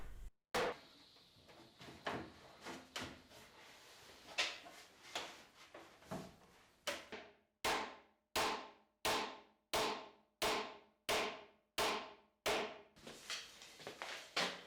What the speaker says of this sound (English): I protected the legs with a block of wood and hammered them in, first with a mallet and then with a good sized hammer.